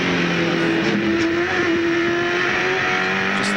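Onboard a 2001 V8 Supercar driven by Scaife at the Canberra street circuit, the engine roars loud and close in a continuous drone, with gear changes and pitch shifts as the car accelerates.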